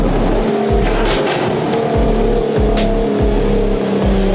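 A modified Nissan GT-R engine on a dyno revs loudly and repeatedly in a rhythmic cycle, rising and dropping over and over, with sharp high-pitched bursts accompanying each rev.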